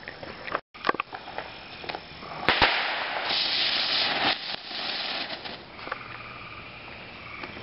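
A firecracker goes off outdoors with sharp cracks and pops, followed by a crackling, hissing burst that lasts a couple of seconds before fading to scattered noise.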